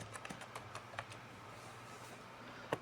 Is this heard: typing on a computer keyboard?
yes